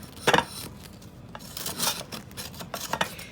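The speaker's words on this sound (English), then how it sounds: "You just want to go around the edge with a knife" A knife runs around the edge of a cake in its pan, making short dry scraping and rasping strokes in close, quiet bursts.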